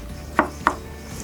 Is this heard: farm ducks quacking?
no